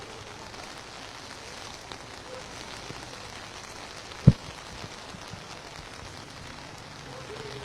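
Heavy rain falls across Kochi city amid flooding, a steady, fairly faint hiss of rain that runs throughout, with one sharp thump partway through.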